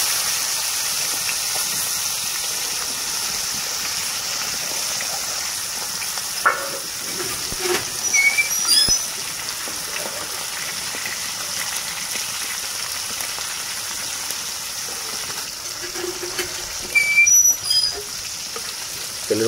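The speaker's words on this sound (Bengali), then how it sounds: "তেলের মধ্যে খুব সুন্দরভাবে মা মাছগুলোকে ভেজে নিচ্ছে" Koi fish frying in hot oil, a steady soft sizzle and crackle running the whole time, with a few louder pops and spatters standing out now and then.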